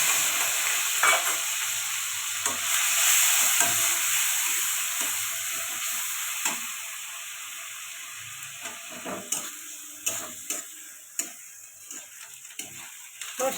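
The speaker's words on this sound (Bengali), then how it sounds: "কালো জিরে ফোড়নে দিয়ে দেবো মাছের ঝালটা করে নেওয়ার জন্য।" Nigella seeds, green chili and onion paste fry in oil for a fish curry, a soft steady sizzle with occasional stirring clicks and taps, fairly quiet and without talk.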